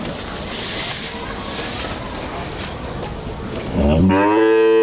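A heifer at a dairy farm lets out a loud, deep moo near the end, after several seconds of steady rushing background noise.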